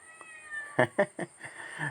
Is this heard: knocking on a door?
no